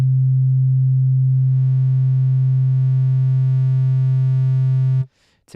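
A steady, buzzy low synth tone from a sine wave pushed through heavy distortion, rich in harmonics, holds for about five seconds, then cuts off abruptly.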